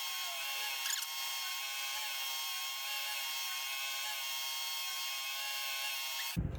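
A knife blade is ground on 240 grit to sharpen it, a continuous high-pitched whine that holds steady throughout and stops abruptly at the end, close and fairly loud with no talking.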